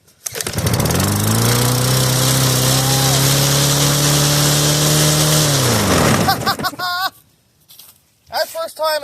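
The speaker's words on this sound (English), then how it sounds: "The mower is alive, y'all." A Snapper self-propelled lawn mower cold-starting after four months unused, its engine catching and running loud and steady close by for several seconds before cutting off, followed by people talking.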